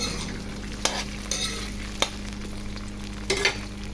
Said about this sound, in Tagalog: halu-haluin lang natin ang ating meatloaf hanggang mag-crunchy yung every corner niya